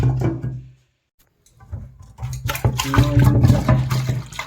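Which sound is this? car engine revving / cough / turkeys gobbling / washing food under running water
washing food under running water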